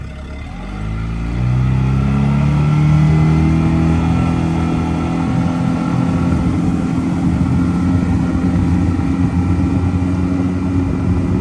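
A Carolina Skiff J16 outboard engine rises in pitch as it throttles up, then holds a loud, steady drone for several seconds while the boat climbs onto plane on the water, close by with no talk.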